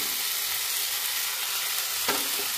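Sour water made from garcinia pedunculata is poured into fiddlehead ferns cooking in a pan, giving a steady, loud broadband sizzle with a brief splashy burst near the end, and no voices.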